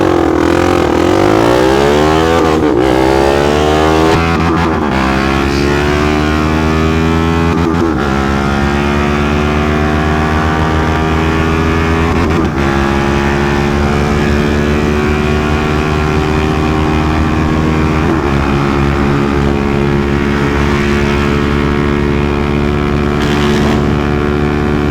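Bajaj NS400Z motorcycle with a full-system or slip-on exhaust pulling hard in sports mode during a race, loud and close, the engine note climbing through gear after gear with short dips at each shift.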